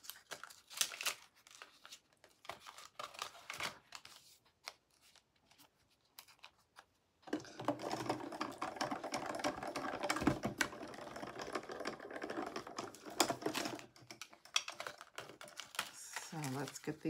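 Paper cards for a handmade Christmas card fed through a die-cutting machine, a steady dense grinding rumble from about seven seconds on, following quieter crinkling and handling noises at the start.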